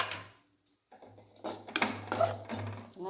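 Ingredients for protein laddu dry-roasting in a pan as a spoon stirs them, giving soft scrapes and a few light metallic clinks over a low steady hum, fairly quiet with no talking.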